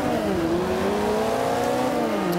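The turbocharged engine of a KTM X-Bow in Forza 5 accelerates hard, its loud, continuous whine rising and then dipping slightly as it revs through the gears.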